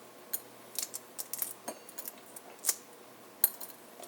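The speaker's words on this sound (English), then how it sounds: "Now you crack the eggs shells" Hard-boiled egg shells cracking and peeling by hand for an egg sandwich, a string of small sharp clicks and crackles at irregular intervals, close and fairly quiet, with no talking.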